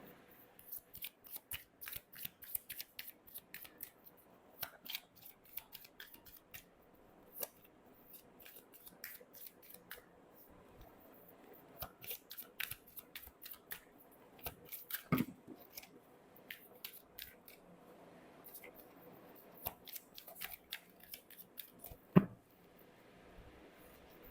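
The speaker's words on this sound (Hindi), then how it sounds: "एक और फाइनल कार्ड लेंगे आपके लिए।" Tarot cards are shuffled and drawn by hand, giving a steady run of quiet, close papery flicks and snaps with occasional louder slaps as cards land. There is no talk.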